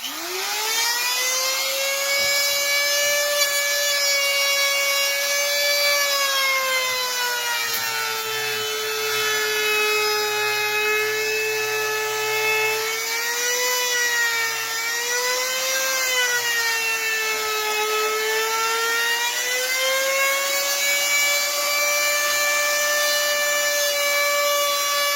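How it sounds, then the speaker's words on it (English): Hand router trimming the very edge of a wood piece, a loud steady high-pitched whine that sags and rises slightly as the cut loads, running continuously without a break and without talk. "Just going to trim the very edge off."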